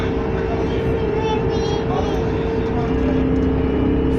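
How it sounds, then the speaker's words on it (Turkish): A steady engine drone and rushing water from a tour boat speeding up at sea, continuous and fairly loud, with voices talking over it. "Şu an hızlanıyoruz Ela gidiyoruz."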